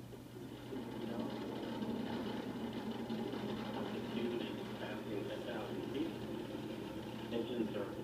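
Antares 230 rocket first-stage engines burning during the launch of the Cygnus OA-5 mission, a steady, dense low roar with a constant hum, heard under ongoing commentary voice.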